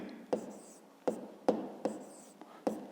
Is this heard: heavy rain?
no